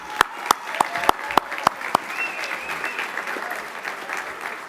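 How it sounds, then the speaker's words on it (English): Applause at a business hall of fame awards ceremony opens with a few sharp, rhythmic claps that swell into a sustained, moderately loud round of clapping from the audience filling the room. "Give them another round of applause."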